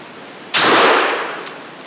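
A single loud close shotgun blast from a Stoeger M3000 firing a 3-inch 5-shot turkey load through the stock turkey choke at 30 yards, a sharp crack followed by a long decaying rumble.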